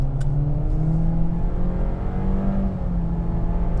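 A 2023 Honda CR-V accelerates at full throttle, its engine drone rising steadily in pitch with a brief simulated shift dip, heard from inside the cabin as a continuous, moderately loud whir.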